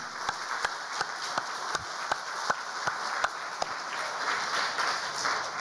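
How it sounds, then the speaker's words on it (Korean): Congregation applause for the children during a church service, a soft steady spread of clapping with distinct louder claps popping out at a regular pace. "태어나 주셔서 감사한 우리 어린이들에게 뜨거운 박수를 보냅니다"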